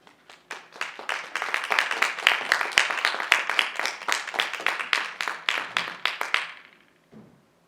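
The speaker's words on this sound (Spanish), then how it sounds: "Les pido un fuerte aplauso" A crowd at a lecture applauds steadily for several seconds, loud and sustained, then the clapping fades out, leaving a brief quiet moment.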